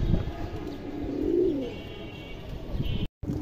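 Indian high-flyer pigeon cooing in a loft: a soft, low throaty coo swells and fades, close but fairly quiet, over faint background noise, with no speech.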